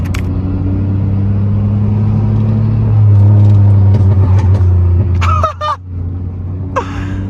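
A muffler-deleted Pontiac Grand Prix GT rumbles loudly from inside the car, its raw exhaust rising as the engine revs up during a downshift, then dropping off, with a few brief sharp noises near the end.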